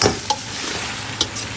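A spoon stirs chicken coated in turmeric in a hot pan, with a constant sizzle of frying and two distinct scraping clinks of the spoon against the pan.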